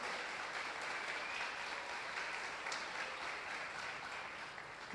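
A church congregation applauding during a service, a soft, distant wash of steady clapping that carries on evenly throughout with no voices over it.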